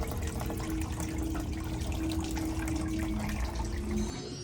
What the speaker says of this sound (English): Water tends to run downhill,